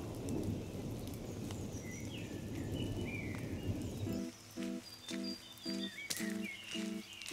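Heavy rain falling in the Forest of Dean woodland, a steady broadband hiss at first, then thinning into patter while a rhythmic pulsing sound and some chirps come through.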